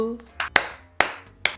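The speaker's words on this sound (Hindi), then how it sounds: "ताली बजाओ सब लोग" Scattered hand claps at a birthday celebration, four sharp separate smacks in an uneven rhythm, close and loud, with a brief voice underneath.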